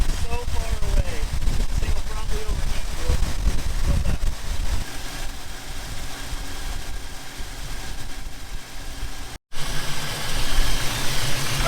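A 1957 Chevy 3100 truck engine idles steadily after a carburetor adjustment, a low continuous rumble heard close up with a brief dropout near the end.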